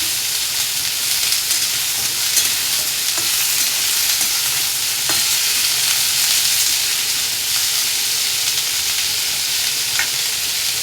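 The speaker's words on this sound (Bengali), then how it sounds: "ভাজা ভাজা করে নেব" Chichinga, or snake gourd, sizzles in hot oil in a pan for Bengali posto, a continuous close hiss of frying with occasional soft stirring scrapes and clicks, no voices.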